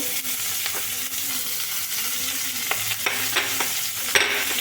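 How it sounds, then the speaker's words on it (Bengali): Chopped onions fry in a pan after cumin, making an even crackling sizzle with repeated scraping knocks from a stirring spoon that grow more frequent toward the end. "এবার আমি দুটো কুচানো পেঁয়াজ দিয়ে দিলাম পেঁয়াজগুলো ভালো করে ভেজে নেব"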